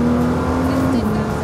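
Nissan Juke-R driven at full power, a loud continuous engine roar with a steady high drone held throughout, accelerating hard as a voice speaks briefly over it.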